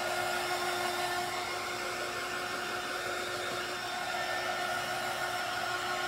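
A hair dryer blows steadily on a painted craft wagon made from dollar-store canvas frames, a close constant whine and airy rush with no break.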